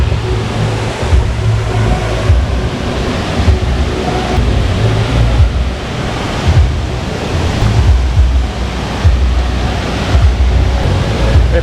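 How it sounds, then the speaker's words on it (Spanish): The waterfalls of Tamasopo in the Huasteca Potosina give a loud, constant roar of falling and rushing water that fills the scene evenly from start to finish, with no voices over it. "Esta es la otra zona de baño que hay en Tamasopo, que son las cascadas de Tamasopo"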